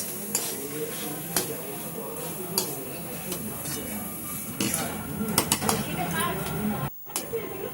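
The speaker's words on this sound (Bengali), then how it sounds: "সমস্ত কিছু দিয়ে ভালো করে পুরটাকে আমি নাড়াচাড়া করে নেব কড়াইয়ের মধ্যে" A potato pakora filling is stirred in a wok, with repeated scraping and clinking of a spoon against metal in an uneven rhythm, close by, while someone talks.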